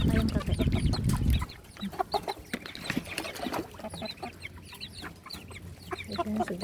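KUB and Bangkok chickens cluck busily while bran and pellet feed is scattered for them, with pigeons kept alongside. Soft, overlapping calls come up close, with a brief burst of scuffling at the start.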